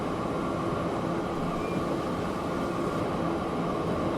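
Steady in-cab rumble of a train running in the video game Transport Fever 2, a constant dense low roar with a faint high whine, continuous and even throughout, no talking.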